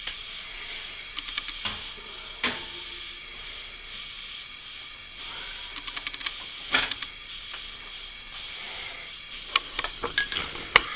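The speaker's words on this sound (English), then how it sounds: "So you put the pies on the electric stove burners to cool off for about 20 minutes." Metal pumpkin pie pans set down on electric stove burners, several light clinks and taps scattered over a quiet hissing background.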